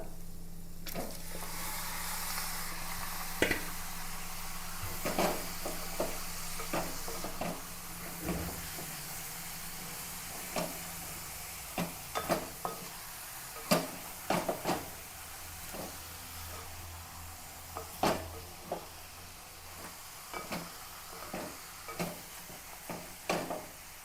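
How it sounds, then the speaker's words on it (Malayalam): Marinated chicken frying in a hot pan with steady sizzling hiss, broken by frequent sharp clinks and scrapes of a stirring utensil against the pan throughout. "ഇതാണ് മാരിനേറ്റ് ചെയ്ത ചിക്കൻ അതങ്ങനെ ഇട്ട് കൊടുക്കാം"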